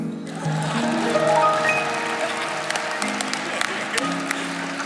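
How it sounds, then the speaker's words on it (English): Luncheon audience clapping at an MLK Day celebration, a crowd's clapping under voices and tonal background sound, with scattered sharper claps standing out. "You all can clap for me."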